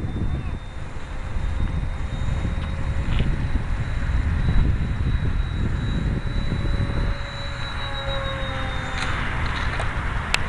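A nose-heavy, poorly balanced RC model airplane with a triangle fuselage on its maiden flight drones steadily overhead, with a constant engine whine over rumbling wind noise.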